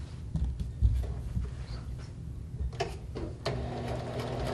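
Sewing machine stitching a quarter-inch seam along a fabric edge, the presser foot set to that width; a close, uneven mechanical rattle with light clicks and bumps, the motor pausing and restarting partway through.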